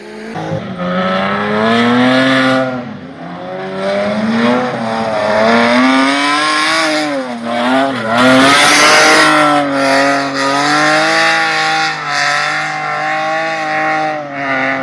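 A BMW-engined Volvo 740 race car revs loudly and close at Spirit Peaks Raceway, pitch climbing and dropping through gear changes, with a brief squeal of tires midway.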